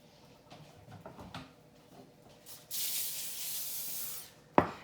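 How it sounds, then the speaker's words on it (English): Cooking spray sprayed onto parchment paper covering mini bread loaves, a single steady hiss lasting over a second, close and clear, followed by a sharp knock as the can is set down. "just give the parchment a little bit of grease or spray just so that it doesn't stick to your paper"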